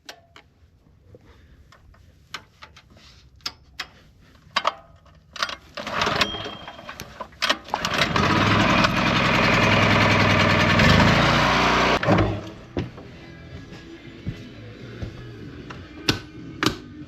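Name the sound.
generator starting and running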